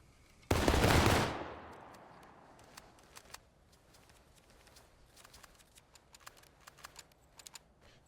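A musket volley in the video game War of Rights opens with one loud, massed blast that rolls away into a fading tail, followed by scattered faint clicks and distant pops.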